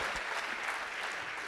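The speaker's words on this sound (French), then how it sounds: "On peut les applaudir toutes les trois." Audience at an evening awards ceremony for finance executives applauding steadily, a dense wash of clapping from a full room that holds even throughout.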